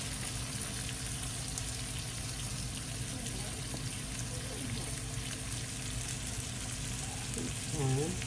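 Sliced garlic cloves frying in a pan of chicken fried rice, a constant close sizzle and crackle running throughout, with faint stirring scrapes and a short louder burst near the end.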